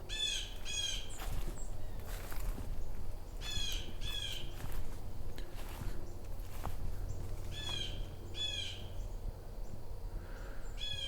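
Harsh, repeated blue jay calls ring out in a fall migration flock, several bursts spaced every second or two, fairly near and loud over steady outdoor background noise.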